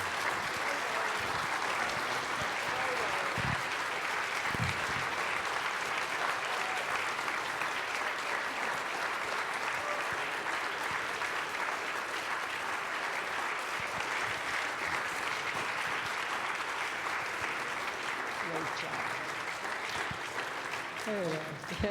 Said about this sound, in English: So please, let's give them a huge round of applause.